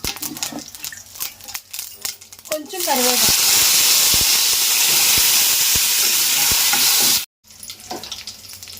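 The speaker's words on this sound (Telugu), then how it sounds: "తాలింపు అయితే వేగిపోయిందండి" Tempering of mustard seeds and dried red chillies for ginger chutney hitting hot oil in a pan, a loud sudden burst of sizzling and crackling that holds steady for several seconds, preceded by clinks, with a voice speaking briefly.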